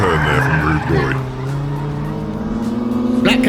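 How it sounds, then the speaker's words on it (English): Hot Wheels toy car pulling a handbrake turn on a plastic track, a loud motor whine bending through a sharp tire-squealing skid that settles into a steady drone, with a short burst again near the end. "Stunning handbrake turn there from Rude Boy"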